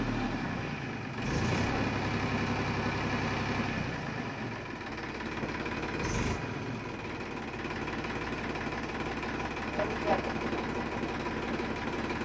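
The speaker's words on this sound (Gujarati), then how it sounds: "અને પછી ટ્રેક્ટર ચાલુ કર્યું." A tractor that had sat unused for many days idles with a steady low rumble, its tone shifting briefly twice, while a person speaks over it.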